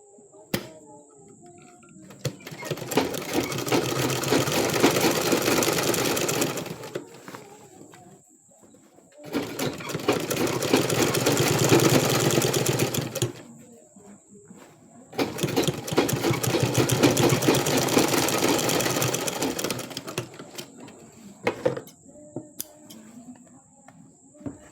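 A sewing machine stitches a trouser welt pocket in three long, steady runs of rapid mechanical whirring, separated by short quiet pauses, with faint bird cooing and chirps in the background.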